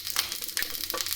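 Small shallots sizzle and crackle in hot oil in a home kitchen pan while cooking mutton curry, with soft stirring scrapes over a brief quiet stretch.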